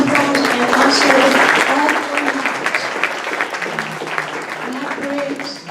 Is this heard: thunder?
no